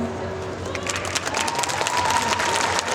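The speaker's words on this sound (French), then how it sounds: "On peut l'applaudir encore très très fort" Loud crowd applause at a Japan pop show contest in Mons, thick continuous clapping with some cheering that builds slightly toward the end.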